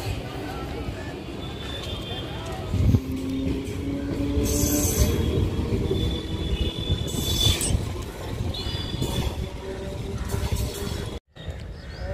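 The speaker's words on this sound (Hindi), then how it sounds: "ट्रेन अभी निकलने वाली है अंबिकापुर के लिए" Passenger train pulling out of Kotma railway station in a coal-mining area, bound for Ambikapur, with a steady rumble of rolling cars, a brief brake squeal and platform chatter underneath throughout.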